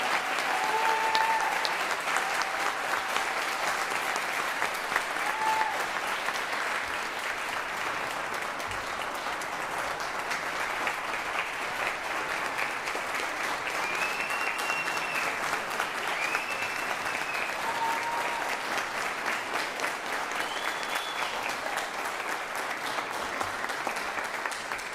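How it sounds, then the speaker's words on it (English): A crowd at an Air Force ROTC commissioning ceremony applauds the graduating class, giving steady, sustained clapping throughout with a few faint whistles and cheers over the top. "let's give one more huge round of applause for our commissioning class"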